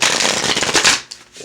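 A deck of tarot cards is riffled and shuffled by hand in one close, crisp flurry lasting about a second, then stops.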